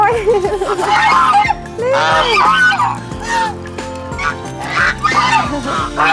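Several geese being fed honk loudly and repeatedly at close range, overlapping calls in an irregular chorus.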